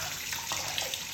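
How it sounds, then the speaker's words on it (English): Tap water running steadily over a silver coin held under the stream, a continuous close splashing hiss with no pauses. "I'm gonna go ahead and rinse this off."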